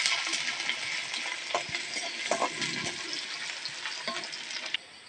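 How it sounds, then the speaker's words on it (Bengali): Onions fry lightly in hot white oil, a steady close sizzle and crackle with soft stirring scrapes running throughout, no voices. "তেলের মধ্যে অল্প কটা পেঁয়াজ দিয়ে দেবো পেঁয়াজটা হালকা ভেজে নেবো"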